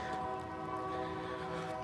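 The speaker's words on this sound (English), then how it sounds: "Is that a train? Yes, it is." A train sounds its horn in the distance, a faint steady chord of tones that holds unbroken over low rumble, heard outdoors during a morning dog walk.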